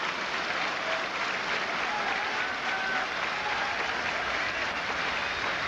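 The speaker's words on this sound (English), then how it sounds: "Crowd trying to get something going, and a good crowd on hand on this Sunday afternoon." A big Sunday-afternoon baseball crowd at a Rangers vs Tigers game applauds and cheers steadily, a dense, continuous wash of clapping and voices that holds at the same loud level throughout.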